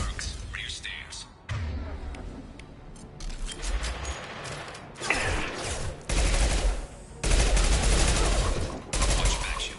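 Gunfire in the shooter game Mass Effect 2 comes in loud, close volleys and bursts separated by short quieter gaps, with voices talking between the shots.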